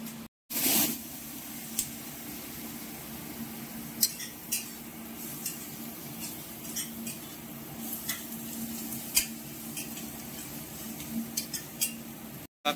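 Ginger and green chili fry with salt in a pan for a Bengali tangra fish curry, giving a low, steady sizzle punctuated by occasional clinks of a utensil against the pan.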